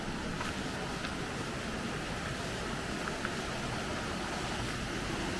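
Mungalli Falls waterfall in Queensland, a constant broadband rush of falling water with some wind buffeting the microphone, steady and moderately loud with no talking.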